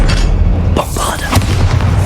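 A Bombarda blasting spell detonates in Hogwarts Legacy, a deep booming burst that rumbles and fades over about two seconds amid game ambience.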